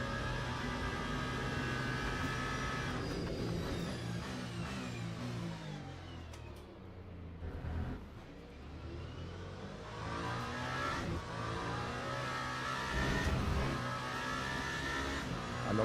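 Race car engines roar in the LMU Le Mans Ultimate racing game during a Bahrain race, a sustained buzzing engine drone that rises and falls with gear shifts and revving, with other cars whining nearby.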